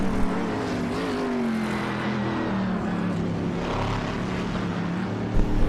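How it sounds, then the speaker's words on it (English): GT race cars circulate at Spa in a racing video game, a steady, droning engine tone with sustained harmonics and a slight pitch rise and fall, holding level throughout with no talk. "Man, those cars sound awesome."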